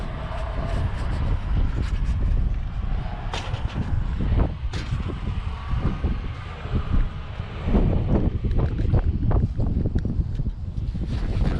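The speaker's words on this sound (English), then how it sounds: "Oh yeah, that wind is really blowing." Strong wind blowing across an outdoor roadside stop by a vehicle and hitch, a loud continuous rumbling buffet with gusty swells and microphone wind noise throughout, no voices.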